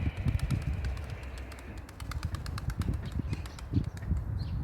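Rapid flapping of a white male pigeon's wings in flight, a continuous fluttering beat with rhythmic whooshes, fairly close.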